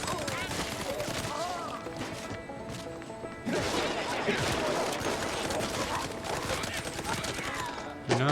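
Bomb explosions and crashing impacts from the video game MOUSE: P.I. For Hire rumble densely and loudly for several seconds alongside game music, with a sharper burst near the end.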